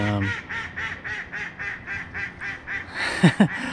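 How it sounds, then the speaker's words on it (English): A duck quacks loudly and close by in a rapid, steady series of calls near a hardy citrus greenhouse. A brief voice cuts in near the end. "the duck really wants to make a bunch of noise"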